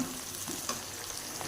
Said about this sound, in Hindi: हल्का से इसे फ्राई करेंगे और इसमें साबुत ही लहसुन अदरक डाल देंगे